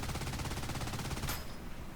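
Miniguns in the building game Trailmakers fire at a heavy armored tank, a dense rapid-fire rattle of rounds that cuts off abruptly near the end, loud and close with no talk.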